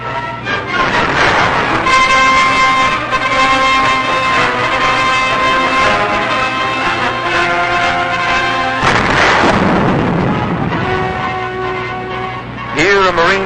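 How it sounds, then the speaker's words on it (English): Japanese artillery fire during the 1945 Okinawa operation, recorded in a wartime newsreel: a loud, continuous rumble of heavy guns and explosions fills the whole clip under a dense, steady soundtrack with no speech. "Japanese artillery is constant, heavy, and accurate throughout the entire operation."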